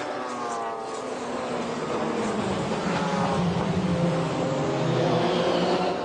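Race cars at the 1995 24 Hours of Le Mans roar past in a continuous, loud engine drone that swells slightly as they pass, with no voices.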